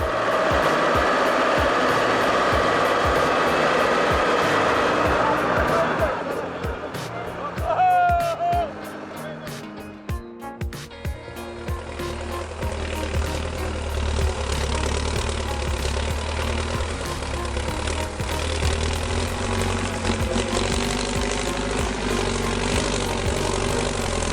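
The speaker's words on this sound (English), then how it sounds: "Belarus 1025, carrying a mountain of logs over rough terrain, causes the trailer to get stuck, holding it back." A Belarus 1025 tractor hauling a mountain of logs over rough terrain, its trailer getting stuck, gives a steady low engine drone that strains and shifts midway before settling into a deep, continuous rumble close by.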